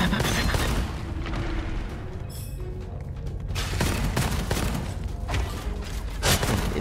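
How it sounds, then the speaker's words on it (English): Rapid bursts of gunfire with booming impacts in a dense action mix, loud and continuous with a brief lull midway. "Ha, gunfire."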